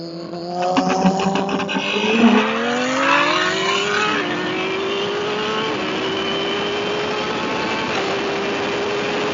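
Engine note of a Suzuki Hayabusa motorcycle cruising, a smooth tone that climbs through rising pitch sweeps early on, then settles into a steady drone with small shifts, heard from nearby with wind rush.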